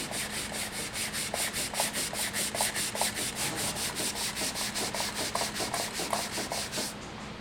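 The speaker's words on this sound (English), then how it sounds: "Wet sanding is a lot of work." Wet sanding of the lacquer finish on a wooden stave drum shell, with steady rhythmic back-and-forth rubbing strokes, close and moderately loud, about two strokes per second, with no talking.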